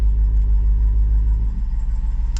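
A Jeep Wrangler Rubicon 392's deep V8 engine idles with a low, throbbing rumble that drops slightly quieter partway through as its exhaust valves close, heard up close.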